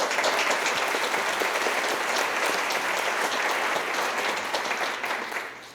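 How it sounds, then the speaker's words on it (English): An audience at an evening community book talk applauds, a dense and loud round of clapping that holds steady and then fades toward the end, with no voices over it. "a special thanks and round of applause for the mastermind of all of it"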